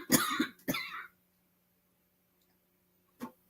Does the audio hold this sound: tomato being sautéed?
no